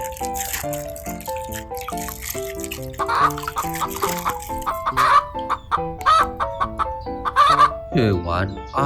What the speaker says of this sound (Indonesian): Hewan ayam.